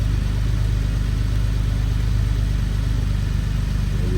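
Infiniti G37 sedan fitted with a Stillen Gen 3 install idles steadily with a low, even rumble, close and continuous with no talking.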